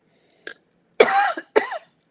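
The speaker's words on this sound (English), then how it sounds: "Throat gets dry and it makes me cough." A person with a dry throat coughs three times close up, one short cough followed by two fuller, raspier ones, separated by silence.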